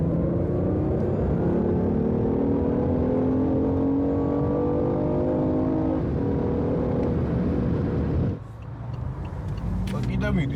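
A BMW electric sports car drives along steadily with a loud, continuous motor and road rumble that rises slightly in pitch, then dips near the end before picking back up.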